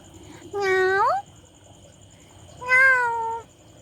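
A cat gives two clear, close meows about two seconds apart; each is drawn out and rises in pitch, with a quiet steady hum in between.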